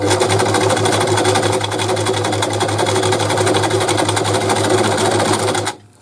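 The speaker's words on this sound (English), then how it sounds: "this is number 18, which is called a feather stitch" A Brother Boutique 30 sewing machine runs steadily through a decorative feather stitch, its needle clattering in a fast even rhythm over a low motor hum, close and loud, stopping abruptly near the end.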